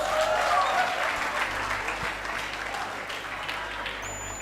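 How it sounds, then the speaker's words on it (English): Classroom or seminar audience at a talk on GST tax applauds a man, a lively burst of many hands that stays strong and gradually eases off over a few seconds. "a big round of applause for the handsome gentleman"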